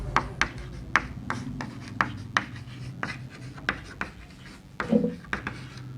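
Pen or chalk writing out a quadratic equation during a Class 12 maths lesson, a series of short scratchy strokes and taps in an uneven rhythm, close and fairly faint, with no talk over it.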